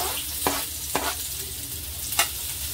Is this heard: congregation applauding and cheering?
no